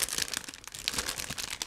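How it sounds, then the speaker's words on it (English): A sealed plastic bag for a Zvezda 1/35 model kit being torn open, giving close, quiet crinkling and rustling in irregular bursts with no voices. "Now I'm opening the plastic bag, so just give me a second."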